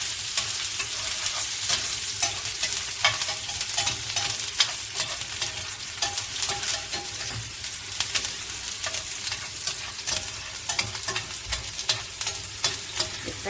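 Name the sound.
onions frying in a pan for chakalaka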